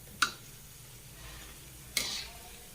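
Pakora batter fries quietly in hot oil in a pan, a soft steady sizzle broken by two sharp utensil clicks against the pan.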